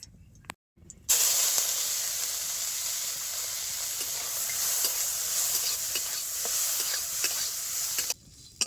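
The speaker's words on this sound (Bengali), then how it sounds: "চিংড়ি মাছগুলো আমার ভালো মতনই ভাজা হয়ে গেছে" Prawns fry in mustard oil in a wok with a loud, steady hiss and sizzle, broken by light scraping taps from stirring. The sizzle starts abruptly after a second of near silence and then cuts off near the end.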